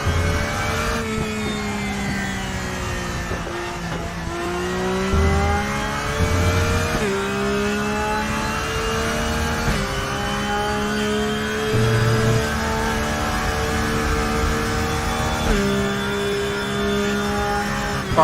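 A high-revving race car engine in RaceRoom at the Nürburgring roars continuously, pitch climbing and dropping sharply with each gear shift, loud and close with no talking.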